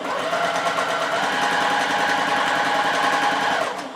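A sewing machine stitches fabric strips in a fast, continuous mechanical whir with a tight rapid rhythm, loud and close for a few seconds before slowing to a stop.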